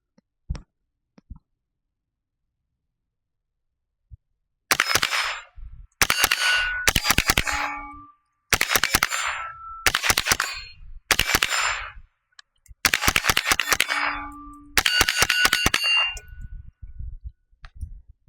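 Suppressed .22LR rifle fired with a CMMG Zeroed 22 suppressor, rounds pinging off steel targets in quick clustered volleys of sharp metallic dings and clangs separated by brief silences.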